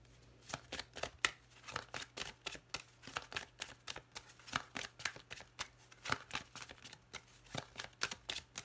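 Tarot cards are drawn and laid out one after another, giving a brisk train of soft, close snaps and slides in a quick, slightly uneven rhythm with no voice over them.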